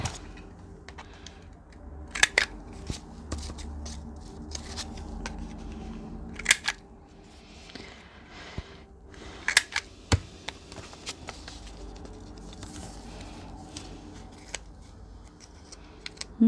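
Scissors snip through paper while cutting out small paper pockets: a few sharp, close cuts and clicks spaced several seconds apart over quiet handling noise, with no talking.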